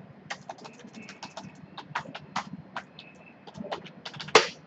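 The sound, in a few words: typing a password on a computer keyboard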